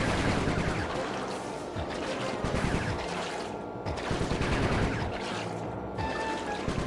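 Shooting in the video game Sly 3: Honor Among Thieves comes as a loud, continuous barrage of gunfire and impacts that fills the whole stretch, with a few short dips between volleys and no talking.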